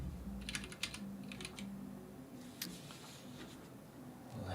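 Someone types on a computer keyboard, quick clusters of soft, close key clicks with short pauses between bursts, faint and alone over a quiet room hum.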